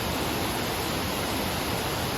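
Kiri Diyella waterfall in Ratnapura, a 116-metre fall, produces a steady, broad rushing roar of falling water, even and unbroken throughout.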